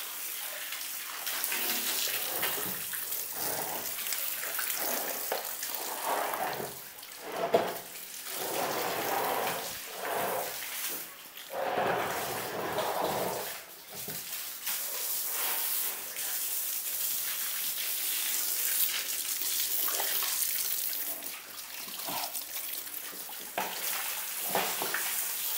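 Water runs and splashes steadily while a pet animal is bathed, with sloshing surges and bursts from a tap or spray. The sound is fairly close and continuous, with no speech over it.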